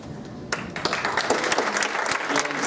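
Audience applause at an anniversary celebration event in Bustamante, Nuevo León: after a quiet half-second, clapping breaks out and builds into a steady, dense round from a room full of people.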